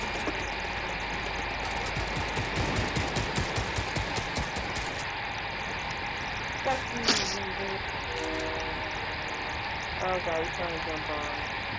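A train in the video game Fortnite rumbles along with a rhythmic clatter of wheels that fades after a few seconds. A short, sharp burst follows partway through, then lighter tonal game sounds as the din settles.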